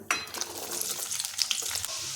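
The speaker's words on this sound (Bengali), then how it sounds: "এখন ওই তেলে ছেড়ে দিচ্ছি কেটে রাখা আলু," Cut potato pieces drop into hot oil in a pan and start frying, a brief burst of crackling sizzle with light stirring clinks up close and no talk.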